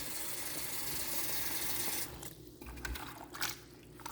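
A salad spinner whirls rinsed shrimp dry in a test kitchen, a loud steady whirring rush that drops off after about two seconds into scattered clicks and rattles.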